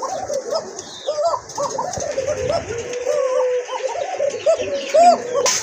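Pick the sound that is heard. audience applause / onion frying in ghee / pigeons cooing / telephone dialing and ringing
pigeons cooing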